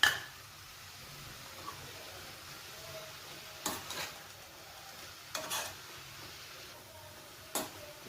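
Carrot and potato pieces are stirred in a frying pan over a low, steady sizzle, and a few distinct scraping clinks of the utensil on the pan stand out clearly.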